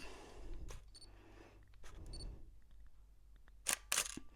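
A DSLR camera shutter fires in quiet surroundings: a couple of soft mechanical clicks early on, then two sharp, close, louder clicks near the end, with no talking.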